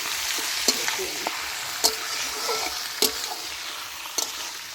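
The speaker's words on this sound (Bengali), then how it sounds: "চলো এবার কষানোর পালা।" Duck meat sautéed in a pan, a continuous hissing fry broken by sharp periodic scrapes and knocks of a spatula stirring, close and fairly loud.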